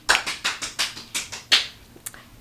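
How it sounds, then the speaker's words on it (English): Someone claps alone, about eight sharp claps at a quick, slightly uneven pace, close and clear, with no voices. "Everybody clap."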